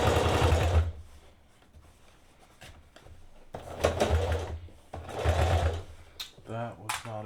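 A sewing machine stitches through thick teddy fabric at the crotch of patchwork pants, running in loud bursts with pauses between, ending in a sharp break as the needle snaps.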